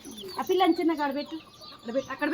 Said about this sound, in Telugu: అదిగో పీజియన్ తీసుకో పీజియన్ తీసుకో